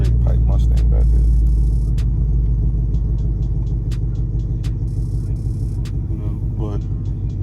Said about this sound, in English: Definitely straight pipe Mustang back there.